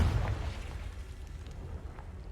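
A Confringo fire spell in Hogwarts Legacy bursts with a loud, deep rumbling boom at the start, then fades into a low, lingering roar.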